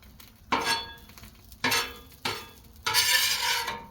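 Bread for patty melts cooks in grease on a Blackstone griddle, with a soft sizzle broken by four scraping spatula strokes that land at irregular intervals, the last one longer.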